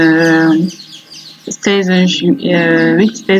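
Two-month-old cockerels clucking and calling close by, several short bursts with brief pauses between them and no one speaking.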